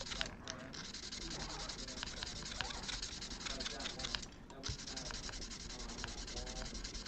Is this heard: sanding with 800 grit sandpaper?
yes